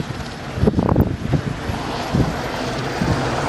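Military helicopters lift off at an air show, a loud, blustery roar of rotors and engines with wind buffeting the microphone, close and continuous.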